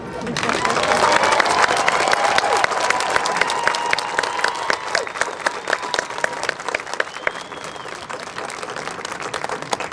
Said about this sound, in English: You may applaud for the graduates.